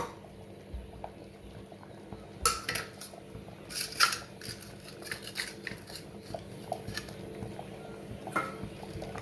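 A metal ladle scrapes and clanks in a cooking pot while stirring moringa leaves for dal, giving scattered clinks and scrapes over a low simmering background.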